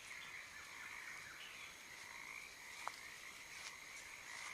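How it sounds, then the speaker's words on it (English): A frog croaks in a steady, faint trill, repeating with insect-like chirps in a quiet night setting; a single soft click stands out midway. "somewhere nearby, a frog lets out a sleepy croak"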